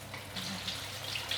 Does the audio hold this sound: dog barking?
no